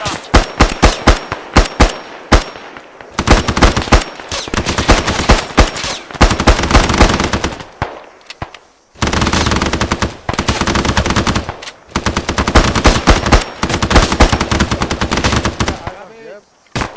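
Automatic weapon fire in the military shooter Arma 3: loud, close, rapid bursts of machine-gun shots, some long and sustained, others short, separated by brief pauses.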